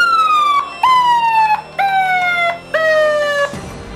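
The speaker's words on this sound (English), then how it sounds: "it will start giving you the light indicator as well as sound indicator like this" Alarm tone from a landmine detection robot's wireless metal detector, sounding as four repeated descending electronic wails with short gaps between them, loud and clear.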